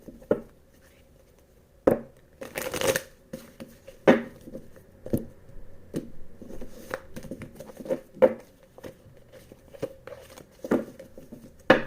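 Cards are shuffled in quick riffling bursts, followed by a series of sharp taps and soft slaps at uneven intervals.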